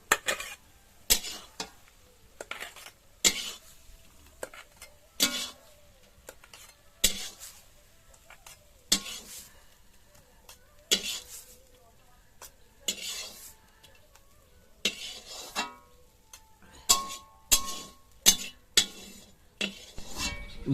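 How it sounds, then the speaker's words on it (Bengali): A spoon scrapes and clinks against a pot while stirring a tamarind flower and note greens curry, in sharp, irregular metallic strokes that come quicker toward the end, with quiet pauses in between. "এবার আমি তরকারিটা নাড়াচাড়া করে নিয়ে নিলাম।"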